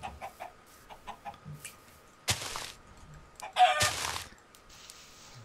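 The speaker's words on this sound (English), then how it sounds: "There's lots of chickens over here." Chickens in the Minecraft video game cluck in short repeated bursts at a steady pace, with two louder broadband bursts of other game noise cutting in midway.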